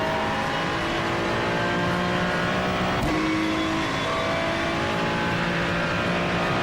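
Turbocharged V6 race car engine of a Ferrari 296 in the iRacing sim, droning steadily and loudly throughout with layered harmonic whine, a brief shift or rev change near the midpoint, and no talking.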